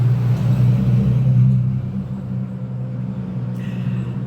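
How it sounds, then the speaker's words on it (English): Road traffic rumbles past nearby, a steady low engine drone that swells and eases as vehicles move by. "Traffic."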